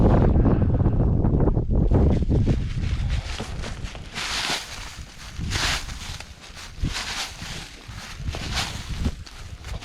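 Gusty wind buffets a microphone outdoors beside a woodland trail in Pennsylvania, a loud, continuous low rumble with repeated surging gusts and hiss throughout, and no voices.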